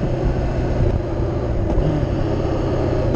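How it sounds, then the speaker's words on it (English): A small, quiet motorcycle engine hums steadily while riding, a constant loud low rumble with wind-like noise and no break. "it's a quiet bike"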